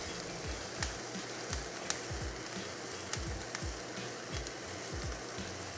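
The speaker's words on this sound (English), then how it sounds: "put the garlic in the middle, give it a little time to cook on its own." Garlic sizzles steadily in a hot pan, a constant bright crackling hiss with a few sharper pops and spatters scattered throughout and no talking.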